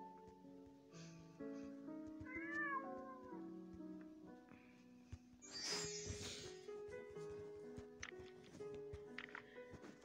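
A cartoon cat meows in the Kitten Match video game, with a few short rising meows among chiming game music and effects, all quite faint.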